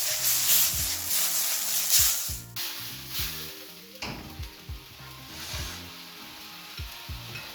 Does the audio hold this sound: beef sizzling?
yes